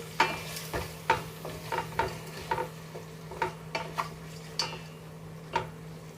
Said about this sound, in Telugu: ఇది కొంచెం వేగిన తర్వాత అల్లం వెల్లుల్లి పేస్ట్ వచ్చేసి వేసుకుంటున్నానండి.